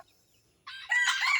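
A rooster crows near chicken coops behind a house, a loud, close call rising in two stages and held for about a second, standing alone after a near-silent start.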